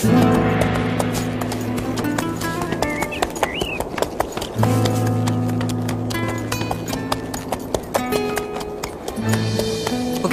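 Horse hooves clip-clop in a steady rhythm of sharp knocks, close and prominent for about ten seconds, with a low sustained background hum and no talking.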